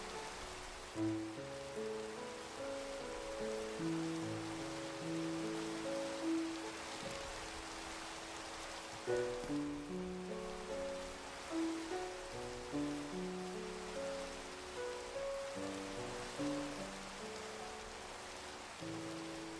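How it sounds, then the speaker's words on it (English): Steady rain falls in the video game Minecraft as a constant soft hiss throughout, with gentle melodic game tones drifting over it; no one speaks. "Of course it's raining when I'm trying to find Endermen"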